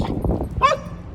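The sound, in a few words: dog barking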